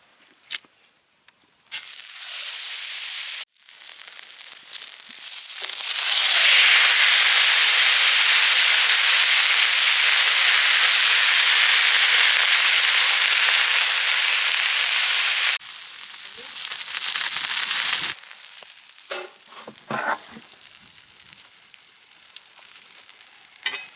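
Red pomfret fish frying on a dosa pan in village cooking style, a loud steady sizzle that swells after a few seconds, holds strong, then cuts off and gives way to faint clatter.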